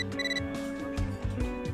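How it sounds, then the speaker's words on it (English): Phone mail notification chime from the video game Catherine: Full Body, a bright, ringing electronic tone in short repeated pulses over steady low game music. "You got a mail."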